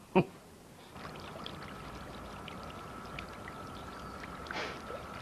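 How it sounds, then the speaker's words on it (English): A garden water feature waterfall pours and splashes in a steady, continuous stream at close range, following a brief sharp knock at the start, with a faint voice briefly audible near the end. "I love the sound of running water."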